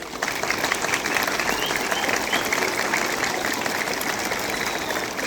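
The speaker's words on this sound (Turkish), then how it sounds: "birinci sınıflara güçlü bir hoş geldin alkışı verelim" A crowd applauds steadily at a school year opening ceremony in Muş, Turkey, a dense wash of clapping hands that holds at an even, fairly loud level throughout with no voices above it.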